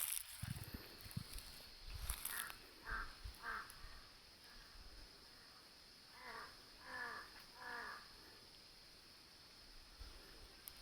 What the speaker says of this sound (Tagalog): Maririnig na lang huni ng mga uwak at ibon.